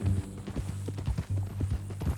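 Steady horse hooves clip-clop at a walking pace in Red Dead Redemption 2, a near, regular rhythm of clear strikes over a low humming game ambience.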